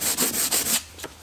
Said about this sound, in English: we're just going to sand down the area and try and smooth it out as much as we can before we put body fillers on